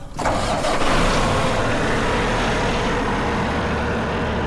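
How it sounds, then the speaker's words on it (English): A truck engine with its aftermarket fuel pump disconnected, running on the factory pump, cranks briefly and catches, then settles into a loud, steady, rumbling idle close by with no talking. "All right, truck is running."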